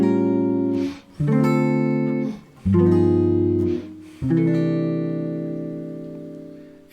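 A jazz guitar comps through 1-6-2-5 changes with extended chord voicings, four sustained chords struck in sequence, each ringing out clearly and alone, the last left to decay.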